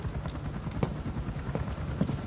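Helicopter rotor blades in Metal Gear Solid 5: The Phantom Pain make a steady, rapid low chopping throb, close and continuous throughout, with a few brief knocks over it and no talking.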